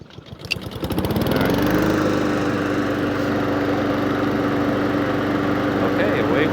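A Honda lawn mower fitted with new Wyevee wheels starts up and settles into a loud, steady engine drone, close and continuous for several seconds, with no talking over it.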